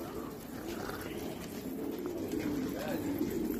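Pigeons kept in a loft, including a black-mottled bird, coo in low, steady murmurs close by, with faint background voices.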